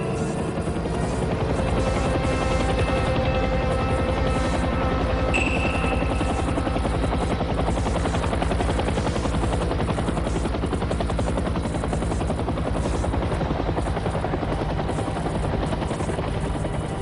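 A military helicopter flies steadily overhead during a polar bear hunt in the Russian Arctic, its rotor thudding loud and continuous throughout with a constant engine whine and no voices.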